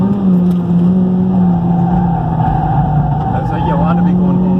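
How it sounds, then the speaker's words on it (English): Honda Civic Type R with a Mugen twin-loop exhaust driven hard on the track at Mondello, engine droning loudly and continuously with a steady tone, tires being worked under load while a voice talks over it. "Just burning the tires off."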